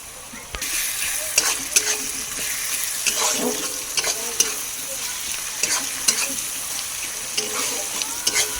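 Garlic goes into fried onions in oil with cinnamon, cardamom, cloves, bay leaf and dried chilli for chicken biryani; a bright, continuous sizzle with frequent spatula scrapes and clinks, close up, no voices.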